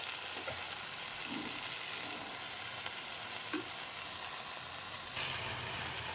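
Gongura and onion curry fries quietly in a pan, a low continuous sizzle with a few scattered stirring scrapes and light taps.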